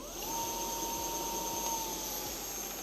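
A restored 20-year-old Razor MX350 electric dirt bike motor runs steadily with a smooth, even whine and a faint high tone, holding a constant level throughout with no voices.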